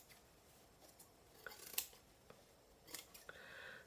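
Scissors trim the edge of a handmade sewn journal with a few quick, crisp snips close by, scattered between quieter paper rustles and light handling, with no talking.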